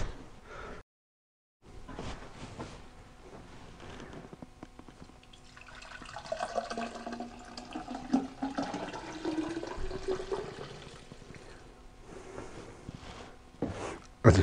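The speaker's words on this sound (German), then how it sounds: "Ich habe jetzt hier ein Liter warmes Wasser eingefüllt" Warm water is poured into the fuel tank of a Simson SR2 motorcycle, making a steady gurgling, splashing flow that builds in the middle and is heard close up, with a short silent gap near the start.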